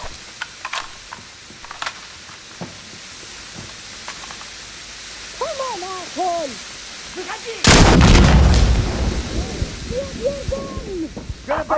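Gunfire in the tactical shooter Insurgency: scattered sharp distant shots early, then a loud close burst of fire around the middle that lingers, mixed with eerie hooting, warbling game sounds before and after.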